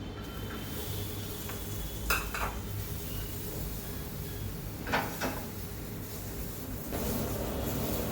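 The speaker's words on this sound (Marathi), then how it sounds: "आता याच्यावर टाकूया मिरची" Chilies roast on a hot tawa in a home kitchen as spices are dry-toasted, giving a steady low sizzle with a few sharp clinks and scrapes of a utensil against the pan, no voices.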